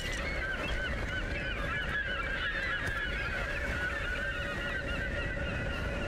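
Birds in the Tomb Raider game honk in a busy, overlapping chorus, steady goose-like calls over a continuous ambient bed, with no talking.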